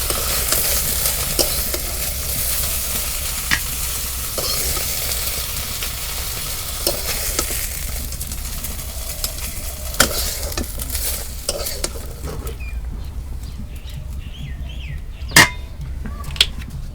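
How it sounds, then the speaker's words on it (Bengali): Curry being tempered in hot oil in a Bangladeshi kitchen gives a steady, close, hissing sizzle with occasional sharp clinks of stirring, thinning toward the end. "তরকারি বাগার দিই"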